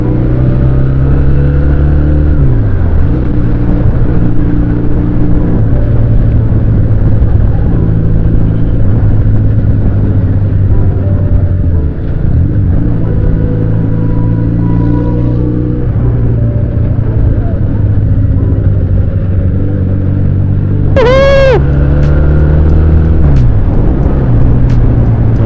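A Benelli Patagonian Eagle 250 motorcycle engine with stock exhaust rumbles steadily while cruising, shifting through gears with rising and falling pitch; a brief high whine cuts in near the end.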